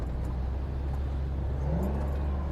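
A 2008 Shelby GT500 engine heard from inside while driving under a bridge, a dense, steady low rumble with a rising rev tone near the end, loud and continuous with no talk.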